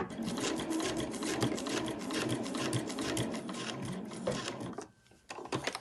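A sewing machine runs back stitches along the edge of a fabric sewing machine cover, a close, continuous rapid chatter that pauses briefly near the end before starting up again.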